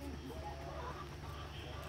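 Chickens cluck steadily over a low, continuous background hum, with faint bird calls mixed into the busy barnyard ambience.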